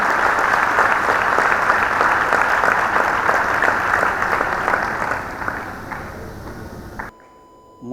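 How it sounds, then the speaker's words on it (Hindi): An audience at a NIMCET 2023 award ceremony gives the rank-2 winner a sustained round of loud, dense applause, which tapers off and cuts to near silence after about seven seconds. "एक बार जोरदार तालियों के साथ"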